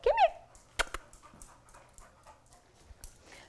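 A calm, non-aggressive live dog being approached with a catch pole during animal services training gives a short high whimper and soft panting at close range, followed by scattered handling clatter.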